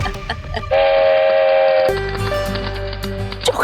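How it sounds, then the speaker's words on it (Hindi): A chocolate train gives a long, steady, tonal horn blast, which then drops into a lower continuing hoot over a loud rumbling running noise, close and prominent. "आपकी ये चॉकलेट की रेलगाड़ी तो बड़ी ही अद्भुत है"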